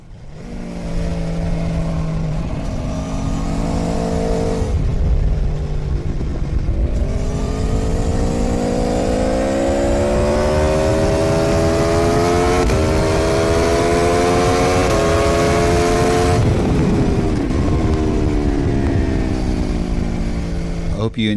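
Sport bikes race around the Barber Motorsports track in an intermediate session, engines screaming near and loud as they rise and fall through the gears in long high-revving sweeps.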